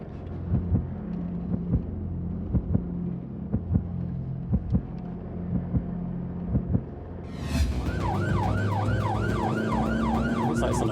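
An ambulance siren wails as the vehicle heads to an incident, starting after a stretch of quiet cab rumble with regular ticking clicks, then suddenly sweeping up and down loudly and repeatedly over engine noise.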